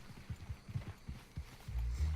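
Horse hooves clop in an irregular trotting rhythm while riding in Red Dead Redemption 2, fairly quiet and distant, with a low rumble building near the end.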